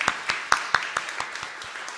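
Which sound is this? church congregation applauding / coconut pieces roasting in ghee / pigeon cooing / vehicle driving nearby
church congregation applauding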